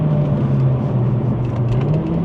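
A Mercedes A45 AMG hatchback engine hums steadily from inside the cabin, with a low drone that rises and falls slightly as it accelerates along the road.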